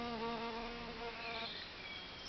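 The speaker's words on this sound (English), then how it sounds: "this noise, the buzzing they make" A worker bumblebee buzzes close by on comfrey in a short, steady drone that shifts pitch slightly as it moves.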